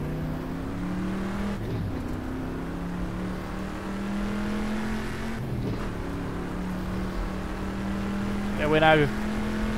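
A Corvette C3 racing at Sebring in GTR2 drones steadily in high overdrive gear, a constant engine hum with brief bursts, while someone talks over it.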